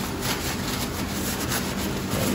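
A cloth rubbing across the wheel rims of a John Deere JD110 riding tractor, a continuous soft scrubbing and wiping sound heard up close and alone.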